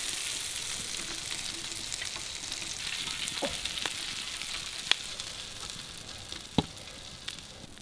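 Kerala-style eggs frying in a pan, a steady soft sizzle and crackle with a few sharp pops and occasional stirring clinks, heard alone without speech.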